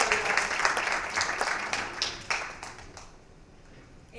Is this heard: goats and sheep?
no